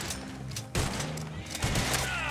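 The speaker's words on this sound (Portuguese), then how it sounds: "Também tá me dando uns pipoco aqui de carabina de repetição" Repeating carbine shots in the Western video game Red Dead Online, two sharp loud bursts with brief echoing tails, heard over a steady game ambience.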